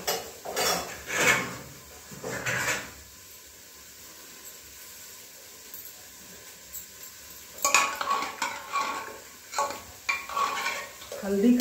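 Mustard oil crackles and sizzles in a pan as garlic and chilies hit it, with stirring scrapes and utensil clinks, bursts near the start and again toward the end.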